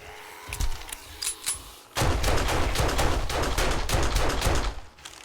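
Gunfire during a zombie horde in 7 Days to Die starts with a few scattered shots, then turns into a dense, loud, rapid automatic burst lasting about three seconds before cutting off.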